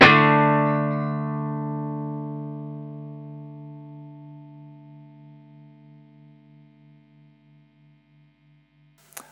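A single note on a KMO California Hardtail electric guitar rings out and sustains for about nine seconds, slowly decaying with a gentle wavering pulse, heard alone and fairly close, with a brief noise at the very end.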